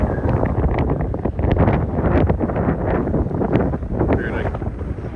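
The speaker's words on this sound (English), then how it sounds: "Yeah, it's gonna be a little breezy tonight, I think." Strong wind gusting across a beach in Kasilof, Alaska, roaring steadily and loudly into the microphone for the whole stretch with no let-up.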